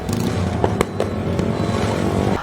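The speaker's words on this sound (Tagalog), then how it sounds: "pati fireworks nakitsir na lang din." Sharp New Year fireworks pops and bangs burst irregularly over a steady modified motorcycle rumble, several distinct cracks in quick succession.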